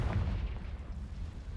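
A Confringo spell blast from the Hogwarts Legacy video game lands as a short, deep boom with a rumbling low tail that fades quickly, fairly quiet overall.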